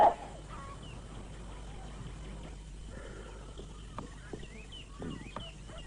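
A khaki rooster gives soft, scattered clucks and short calls at middle distance over a low, steady background hum, with a sharper burst at the very start.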